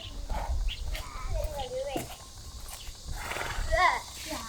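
A donkey brays and snorts at a rural farmstead by an old cave-dwelling residence in Yichuan, Shaanxi, with rising and falling calls over background rustle and knocks.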